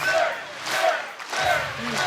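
A large crowd at an Axe the Tax political rally in Nova Scotia cheers and chants in swelling waves, a dense roar heard from within the hall.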